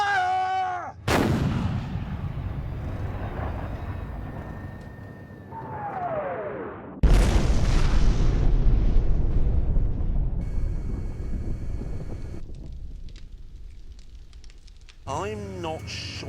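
Heavy gunfire from a weapon in a staged zombie-apocalypse preparation exercise, loud booming blasts with a sharp onset near the middle and rumbling echoes throughout, and a few shouted voices at the start and end.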